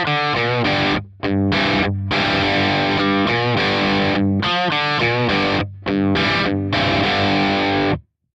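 Heavily distorted electric guitar through a Kemper Profiler rig plays loud, saturated sustained chords with several abrupt stops and restarts, then cuts off cleanly at the end.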